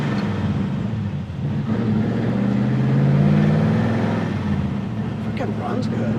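An original V8 engine in a 1950 Mercury runs steadily with a low rumbling drone that swells slightly midway, near and continuous beneath people talking.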